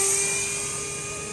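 An electric ducted-fan RC Mirage 2000 model jet whines loudly at a steady, high-pitched full throttle with a strong tonal hum, close by and alone.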